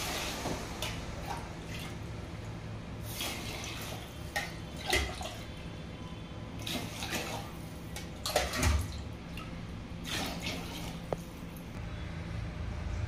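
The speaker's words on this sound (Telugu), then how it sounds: "ఇప్పుడు వాటర్ వేసుకో. 1 గ్లాసు బియ్యానికి 2 గ్లాసులు నీళ్ళు." Water pours and splashes into a pot of egg biryani in an Indian home kitchen, a quiet trickling stream with soft drips and sloshes and no voices.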